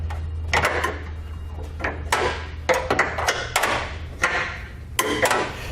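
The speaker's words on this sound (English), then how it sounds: "I'm going to loosen up the nut on the bottom until I can get it loose enough to take it off by hand." An 18mm wrench works a bumper beam nut loose on a 2018 Mercedes-Benz GLC-Class during a trailer hitch install, giving a series of close metallic clunks and ratcheting knocks, irregularly spaced, over a low steady hum.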